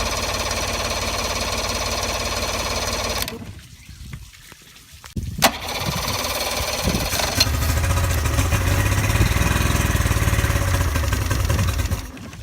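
A boat's outboard engine, choked, idles roughly then cuts out briefly before restarting and throttling up to a steadier, louder drone with water noise around it.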